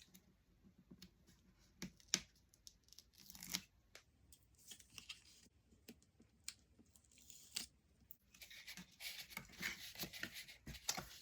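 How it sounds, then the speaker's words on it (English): Tape peeled off the tab of a paper gift bag during crafting, heard as scattered soft crackling rips and papery rustles, close and fairly faint, with a busier stretch of crinkling toward the end. "Then you can take your tape off now on your other tab."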